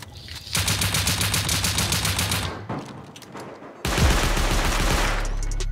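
Bursts of rapid gunfire in a survival video game, aimed at shooting out a shotgun trap inside a base: a long loud volley, a brief pause, then another heavy burst.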